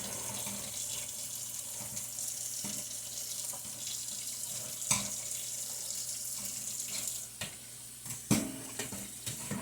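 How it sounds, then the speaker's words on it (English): Warm tap water splashes into a kitchen sink while canned tuna is rinsed to drain the packaging water, a steady close stream with occasional knocks of the can and dishes. "It kind of just helps get some of that packaging water out just a little bit better."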